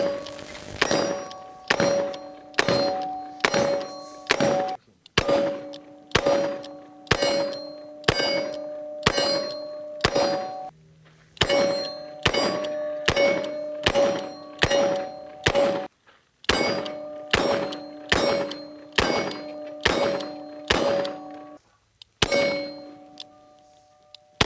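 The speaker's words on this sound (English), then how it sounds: "I'm going to shoot 38 specials." A Colt Python revolver fires .38 Special rounds at steel targets in quick strings of sharp reports, each followed by a bright ringing clang of the steel, with short pauses between strings.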